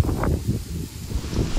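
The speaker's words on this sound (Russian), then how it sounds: "Вот так ветер раздулся." Strong wind blows outdoors by a river on a fishing outing in Astrakhan, buffeting the microphone with low, rumbling gusts that swell and ease unevenly over a short stretch, loud and close with no talk.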